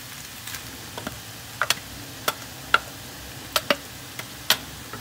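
Sliced carrots and zucchini frying in a pan, a faint sizzle under sharp irregular ticks and pops scattered across a few seconds.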